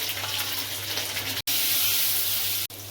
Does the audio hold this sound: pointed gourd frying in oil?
yes